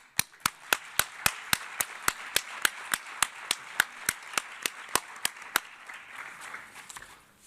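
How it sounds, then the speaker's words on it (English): At a treaty negotiation conference on banning nuclear weapons, delegates applaud three presenters with a crisp, evenly paced run of about twenty sharp claps that fades into a looser, softer patter near the end. "we should applaud the three of our presenters here"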